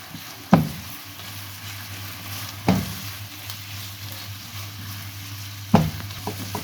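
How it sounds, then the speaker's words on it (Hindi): Minced meat frying in a pan with ginger-garlic paste, a constant sizzle broken by three sharp spatula knocks and scrapes as lumps are broken up, close and without talk. "अब हम कीमे को फ्राई करेंगे और साथ साथ स्पैचुला की मदद से बड़ी बड़ी गुठलियों को तोड़ते जाएंगे"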